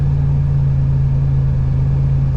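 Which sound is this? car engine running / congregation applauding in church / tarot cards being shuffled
car engine running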